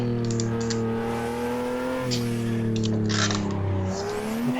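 A Nissan 180SX engine in a video game revs high and drops through gear changes, a steady droning engine tone with clicking keyboard-like taps over it.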